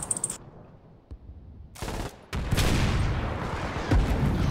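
Artillery fire in the Foxhole war game, heavy booming blasts with rumbling gunfire rolling continuously at mid distance, dense and loud, with no talk over it.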